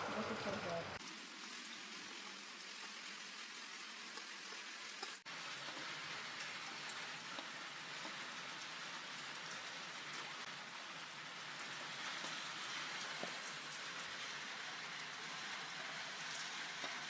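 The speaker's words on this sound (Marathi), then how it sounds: "हा लय पाऊस पडला बघा" Heavy rain pours down in a village setting, a dense, even hiss of drops on surfaces that holds steady throughout, with a sharp knock midway and no clear talk.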